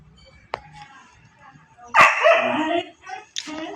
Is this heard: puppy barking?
yes